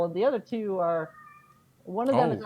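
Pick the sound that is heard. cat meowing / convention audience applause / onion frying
cat meowing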